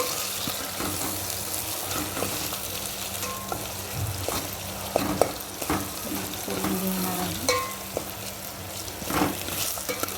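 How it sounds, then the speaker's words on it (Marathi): Masala fries in a pan over a full flame while khichdi is being made. A continuous close sizzle carries light stirring scrapes and a few sharper clicks, and no one speaks. "चांगला मसाला आपला तळून झालेला आहे"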